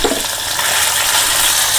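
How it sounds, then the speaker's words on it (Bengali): Prawns frying lightly in oil make a loud, dense, continuous sizzle that holds steady for a couple of seconds. "এটাকে একটুখানি ফ্রাই করে নেবো, ওই তেলেই ফ্রাই করে নেবো হালকা করে।"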